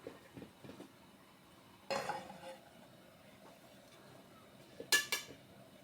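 A fish curry pot is covered with a lid to boil: two metallic clanks about three seconds apart, with soft scraping and clinking in between.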